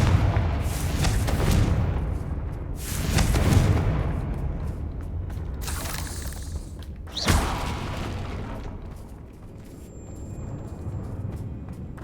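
Confringo blasting spells explode in a video game as several heavy, booming blasts with rumbling tails, loud and spaced a few seconds apart, followed by a quieter rumble.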